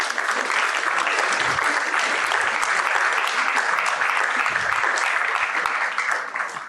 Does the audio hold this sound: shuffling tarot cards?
no